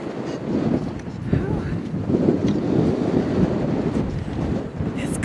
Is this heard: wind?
yes